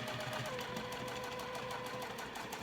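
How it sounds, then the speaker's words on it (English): Domestic sewing machine stitching a straight 1/4 inch seam on a crossbody bag, a steady close whirring hum with fine rapid needle ticks running evenly throughout. "then continue sewing with that 1/4 inch seam allowance"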